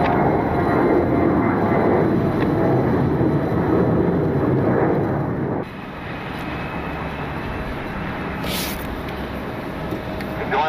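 A fixed-wing airplane rumbles at Cleveland airport, a loud, continuous broadband engine roar that drops slightly in level partway through and then holds steady.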